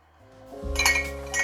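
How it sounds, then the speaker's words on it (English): Glass jars for apricot jam clinking against each other as they are set into an oven, a bright ringing chink close up with a quick second touch near the end. "And in its place, I'm putting the jars."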